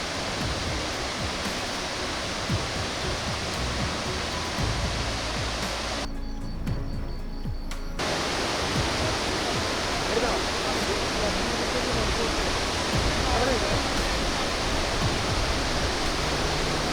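Thoovanam waterfall in a forest, a steady, dense roar of falling water that fills the whole clip without letting up, broken only by a brief near-silent gap partway through.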